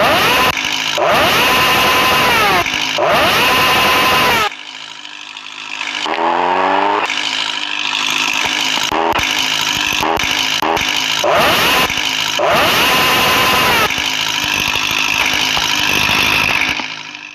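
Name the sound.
motorcycle engine revving in a video game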